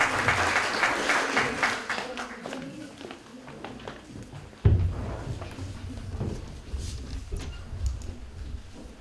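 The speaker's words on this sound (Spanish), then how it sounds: "Aplauso para estos alumnos." An audience at a Book Day event in San Roque applauds school pupils with steady, close clapping that eases off, then a thud midway and scattered claps with murmuring voices.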